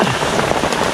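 Heavy rain pouring in a mountain forest at night, a dense continuous hiss of drops on surfaces, close and steady across the whole short moment.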